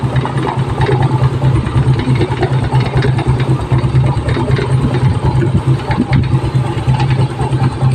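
A Yamaha Mio i 125 motorcycle engine idles steadily with a low, throbbing putter, close and loud, running continuously without revving.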